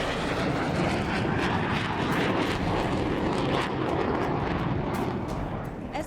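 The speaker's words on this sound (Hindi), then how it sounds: "Su-34 रूसी एयरफोर्स का मजबूत फाइटर जेट माना जाता है।" Sukhoi Su-34 twin-engine supersonic fighter jet: a loud, continuous broadband engine roar that holds steady throughout and fades slightly at the end.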